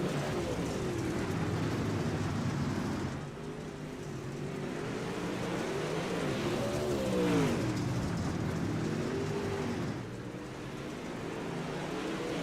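Race cars in the iRacing video game, a continuous engine roar with revving pitch that rises and falls as several cars drive on together, under faint commentary.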